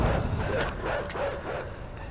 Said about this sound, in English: Dogs, dogs!